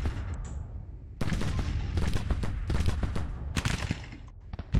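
Civil War infantry musket volleys in the game Grand Tactician, a dense ragged crackle of many rifles firing in overlapping bursts at middle distance, with no speech.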